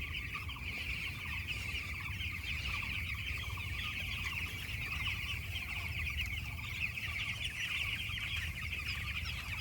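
A crowd of eight-day-old chicks on a poultry farm keep up a continuous high chorus of peeping and cheeping, dense and even throughout with no talking.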